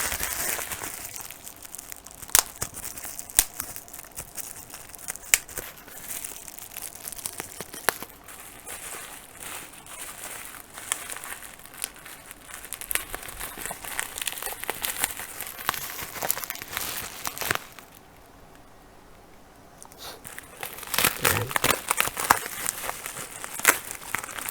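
Crinkling and crumpling of packaging as a secondhand Zoom H1 recorder is unboxed, with steady close rustle, sharp tearing crackles and scattered taps, briefly dropping to near-quiet before the handling resumes.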